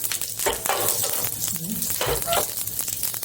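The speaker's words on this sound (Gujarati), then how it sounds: "તો હવે આપણું તેલ પણ ગરમ થઈ ગયું છે. તો રાઈ નાખીશું, કરી પત્તા નાખીશું" Mustard seeds and curry leaves drop into hot oil and sizzle hard, with a loud, steady crackle and popping spatter. Some stirring noise sits on top, close up.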